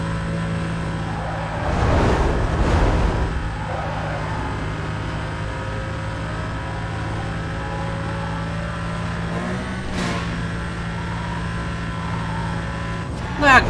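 A Porsche Cayman S racing in Need For Speed Most Wanted: a steady engine drone holds throughout, with a short swell early on and a brief sharp transient near the end.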